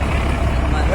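Large trucks packed with people arrive, with a heavy, low engine rumble that holds steady for a moment while voices talk over it.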